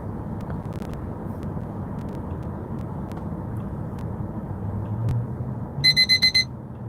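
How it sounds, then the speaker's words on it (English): A short electronic alarm beeps five times in quick succession, high and clear, over a steady low rumble of background noise. "Oh, this alarm I can cut off right now."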